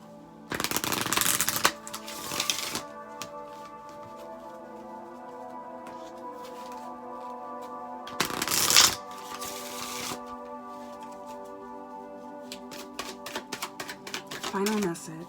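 Oracle card deck shuffled in several brisk riffling bursts, loud and close, with quieter card handling and a soft voice in between.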